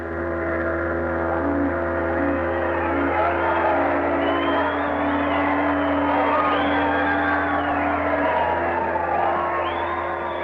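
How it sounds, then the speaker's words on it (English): A large crowd shouts, whoops and cheers continuously in an old 1940s radio drama effect, a dense, steady roar of many voices with scattered higher yells throughout. "There was shouting and rejoicing. There was singing and laughter."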